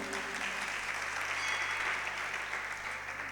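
A crowd at a Jain religious discourse claps steadily and evenly for a few seconds, a continuous, moderately distant applause with no voices standing out.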